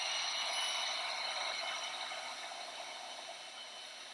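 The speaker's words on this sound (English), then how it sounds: "I'm going to use a heat gun so that I can move on to the next stage." A heat gun drying freshly made craft tags from recycled packaging gives a steady, faint hiss of blowing air that holds unchanged for a few seconds.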